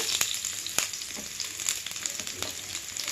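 Peas, wheat rava and other pulao ingredients fry on high heat in a pan, giving a steady close sizzle with light stirring scrapes throughout and no talking.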